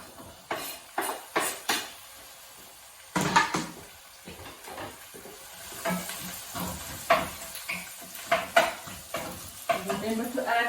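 Chilli con carne ingredients with beans sizzle in a frying pan while a utensil stirs and scrapes in repeated bursts, close and fairly loud, with a few soft knocks of cookware.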